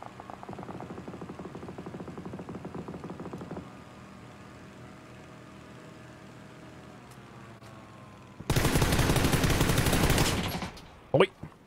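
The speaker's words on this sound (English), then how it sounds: "That's an AUG." Burst of AUG assault rifle fire in PUBG, a dense loud volley near the end after quieter game ambience, with sharp rapid reports.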